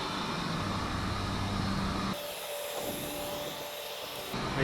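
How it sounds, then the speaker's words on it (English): A heat gun on its low setting blows steadily while warming a plastic lip spoiler on a Subaru STi, a continuous close airy whoosh with a brief drop in level midway before the roar returns. "I just have the heat gun on the low setting right now, so I don't actually burn any plastic"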